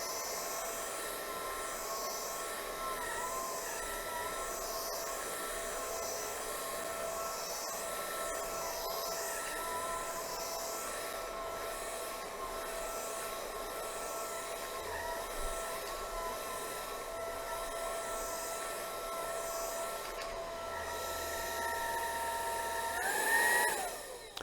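A BVILY cordless vacuum cleaner runs on normal mode across a grooved floor, giving off a steady, faint whine with a soft rushing hiss that swells slightly near the end, with no talking.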